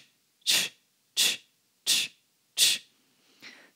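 Four sharp, forceful breaths pushed out through the mouth in a steady rhythm during vinyasa yoga, each a loud hissing, choo-choo-like burst, followed by a softer fifth exhale.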